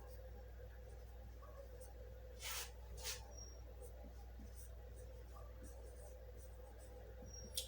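Multiples of six are written out by hand during a maths lesson, faint pen scratches and short strokes on paper in a quiet room, with a voice faintly present.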